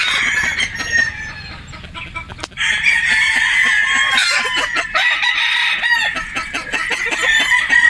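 Boston Roundhead gamefowl rooster clucking loudly and close, in a dense run of repeated calls with no pause, as other fowl sound nearby.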